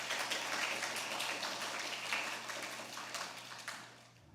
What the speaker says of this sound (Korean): 박수 한번 더 쳐주시면 고맙겠습니다.